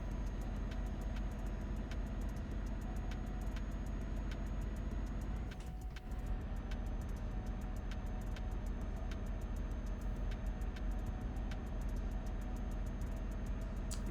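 Simulated truck engine in Euro Truck Simulator 2 droning steadily as it slowly gains speed, a continuous low rumble with faint periodic ticking and a brief dip midway, no talk.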